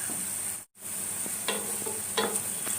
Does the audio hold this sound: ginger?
yes